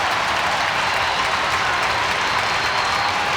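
A crowd at an ice hockey game roars and applauds after a fight on the ice, a loud continuous wall of cheering and clapping that fills the arena.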